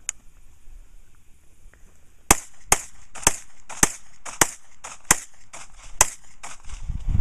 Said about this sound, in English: Shoot the bad guys, Jazz.